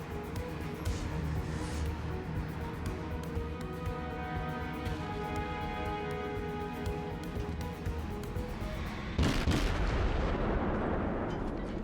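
Enemy warship's main guns booming in World of Warships, a dense roar of rumbling gunfire under steady battle noise, with one sharper, louder blast near the end.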